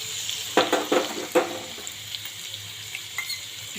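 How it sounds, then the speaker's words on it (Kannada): Chopped garlic with mustard seeds and ajwain frying in oil for tomato paratha: a low sizzle with several sharp, close crackling bursts early on, then softer scattered pops. "ಇದು ಎಣ್ಣೆ ಸ್ವಲ್ಪ ಫ್ರೈ ಆಗಬೇಕು ರೀ"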